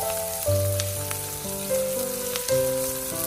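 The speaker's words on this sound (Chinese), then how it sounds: "再把辣椒也倒下来炒香，特别是小米椒，通过油炒一下就不会这么辣" Chopped chili peppers, including small bird's eye chilies, sizzle in hot oil in a wok while being stir-fried for a clam dish, a steady crackling fry with a few scraping stirs and a tonal hum underneath.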